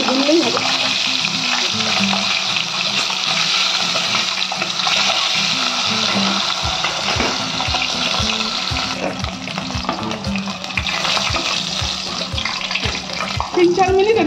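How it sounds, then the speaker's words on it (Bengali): Chicken pieces fry in hot mustard oil in a pan, a loud, steady sizzle that lasts the whole time with occasional clinks as they are turned, and a voice speaks over it. "এবার এগুলোকে 2-4 মিনিট এপিট ওপিট করে একটু ভেজে নেবো।"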